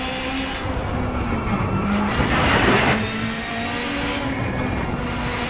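Rally car at racing speed in WRC 9, engine droning loud and steady with gravel and tire noise, a brief surge of braking and skidding midway, no talk.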